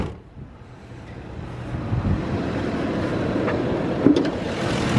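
A 2010 Ford Econoline 5.4 liter V8 wheelchair conversion van idling: a steady low engine rumble that swells slightly over the first seconds and then holds even and fairly loud, close by, with no one talking.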